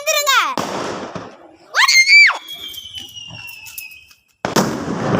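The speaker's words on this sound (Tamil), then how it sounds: "பெரிய வெடி அப்பா வெடிச்சிட்டோம் பாப்பா" A Diwali firework whistles upward with a rising shriek, then sharp cracking bursts from a big firecracker go off close by, with excited voices before and after.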